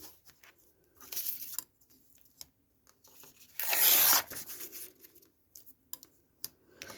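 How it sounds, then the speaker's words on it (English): Paper or thin material torn across by hand in one sharp, loud rip lasting about half a second, with quieter rustling and handling sounds before and after, close by. "I'll just tear that across there"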